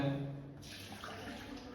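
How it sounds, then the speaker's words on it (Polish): After a brief low hum, water starts pouring out of the water tank of a Melitta Barista coffee machine in a steady splashing stream that continues to the end. "Wodę, która została przelana przez ekspres wylewamy"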